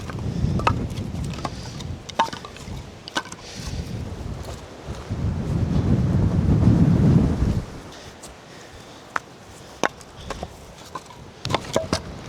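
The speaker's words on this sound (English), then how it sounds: "Thought the wind was dying out, but I was wrong. It is not dying out." Gusty wind blows outdoors at a cabin in winter, a steady low roar that swells to a strong gust midway and then eases, broken by scattered sharp knocks and taps.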